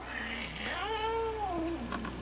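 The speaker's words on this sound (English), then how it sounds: "my first cat is growling." A house cat growls at a newly added cat, giving a drawn-out, wavering low yowl that rises and falls in pitch, close and alone.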